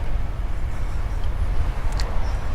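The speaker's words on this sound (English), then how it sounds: "What begins as the recognizable noise of cars passing" Steady low rumble of cars passing by, a continuous traffic wash with no distinct single vehicle, from a scene in the film Mulholland Drive.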